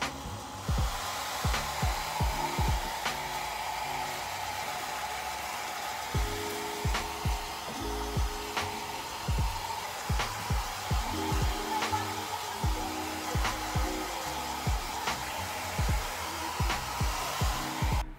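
A hair dryer blows steadily on freshly colored hair, a continuous close whir with small rhythmic surges as it is moved about, with no talking.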